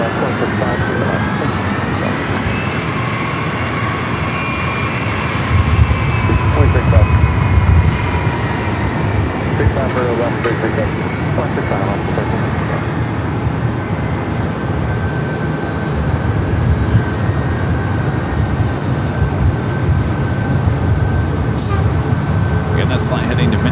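A Delta Boeing 757-300, originally delivered to Northwest, rumbles at LAX on its way to Minneapolis, its steady jet roar sustained throughout with faint voices talking underneath.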